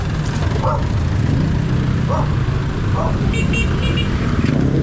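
Busy street traffic of motorcycles and cars: a loud, constant engine rumble with a few short horn toots and a dog barking, heard from the roadside.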